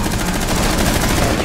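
MP5 submachine gun firing in Rainbow Six Siege: one loud, dense burst of rapid automatic shots, close and continuous, with no talking.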